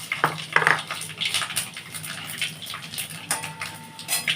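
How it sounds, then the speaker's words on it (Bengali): Whole spices dropped into hot mustard oil in a wok sizzle and crackle with a few sharp pops, close and fairly loud, with faint clinks of a utensil against the pan. "আমি এখানে ফোড়নগুলো দিয়ে দিচ্ছি"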